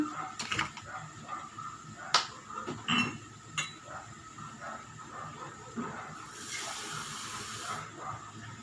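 Water poured into a cooking pan of meat and coconut milk for Bicol express with mushrooms, giving soft sizzling and clinks, then a longer hissing rush of pouring near the end.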